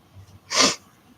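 One short, sharp sniffle or snort of breath, close and fairly loud, stands out against a quiet room.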